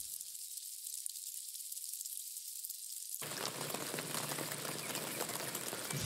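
An edited rain sound effect with a mid-range sizzling texture, like rain on a roof or tent skin, starts thin and filtered, then opens into a full, dense, steady hiss for the rest of the stretch.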